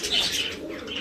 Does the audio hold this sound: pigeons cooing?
yes